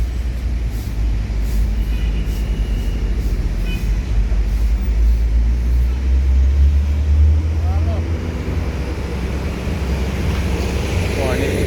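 A heavy Indonesian long-distance bus arrives with a deep, loud, sustained engine rumble close by, steady throughout, while people talk over it.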